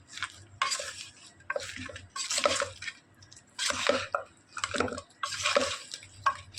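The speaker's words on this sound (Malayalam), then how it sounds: "ഇത് നന്നായിട്ട് ഇളക്കി കൊടുക്കുക" A spoon stirs goat head fry with coriander powder in a pan, producing repeated wet scraping bursts in an uneven rhythm, close and moderately loud, with brief pauses between strokes.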